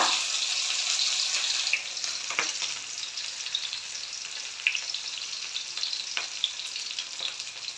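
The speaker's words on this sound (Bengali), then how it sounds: "কড়াইয়ে দিয়েছি পর্যাপ্ত তেল তেল দেওয়ার পর দিয়েছি এই যে পেঁয়াজ রসুন বাটা" Onion-garlic paste and dried fish frying in oil in a wok, a steady loud sizzle with occasional stirring clacks and bursts of spatter, close by and with no talking.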